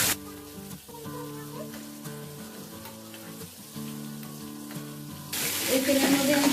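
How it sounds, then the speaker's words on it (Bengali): Prawns and fried-rice ingredients frying in oil crackle and sizzle steadily at close range, with a faint tonal hum beneath, swelling into a louder, brighter sizzle for the last second. "এগুলো সব কিছু অল্প অল্প ভাজতে হবে"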